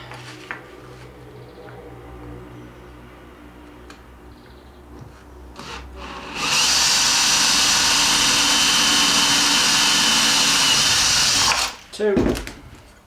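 A power drill whirs loudly and steadily for several seconds, drilling into a desk, then stops abruptly, followed by a short clunk; quieter handling noises come before it.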